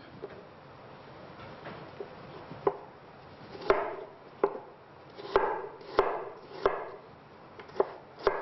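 A knife chops apples into small cubes on a board for a poularde salad garnish, giving a dozen or so sharp, evenly spaced knocks that grow louder midway, with no talking.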